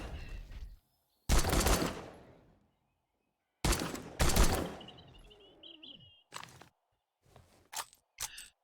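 Weapons firing in the video game 7 Days to Die produce sharp, loud separate gunshot bursts with silent gaps between them, plus a few shorter clicks and mechanical clatter toward the end.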